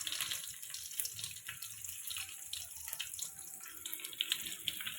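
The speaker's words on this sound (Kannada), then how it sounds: "ಫ್ರೈ ಆಗ್ತಾ ಉಂಟು." Mustard seeds, cumin and urad dal fry in hot oil, giving a soft, continuous sizzling hiss with faint crackles throughout, heard quietly and without talk.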